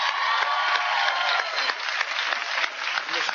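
A studio audience on a talk show breaks into sustained applause, dense clapping mixed with crowd noise throughout, no voices standing out.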